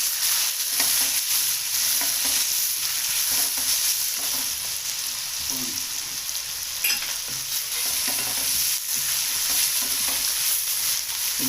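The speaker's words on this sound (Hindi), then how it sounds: "मसाले की अच्छी तरह भुनाई करके" Spices, including crushed red chili, roast with chicken in a hot pan, giving a continuous close sizzle with occasional stirring scrapes and no voices over it.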